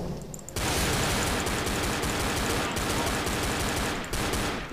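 Rapid automatic gunfire in Left 4 Dead bursts in after a brief pause and keeps going as dense, loud rattling with a short break near the end, while a voice talks underneath.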